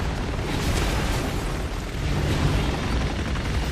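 A tanker explodes after being shot in the Resident Evil 6 game, a loud, sustained roaring blast with rumbling debris that fills the whole moment with no voices over it.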